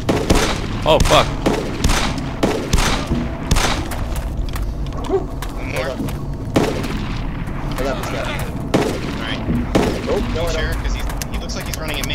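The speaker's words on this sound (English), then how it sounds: "Alright, I'm, gonna open fire." Gunfire in the DayZ video game, repeated booming shots in irregular bursts with a dense, loud crackle that continues throughout, while players talk and shout over it.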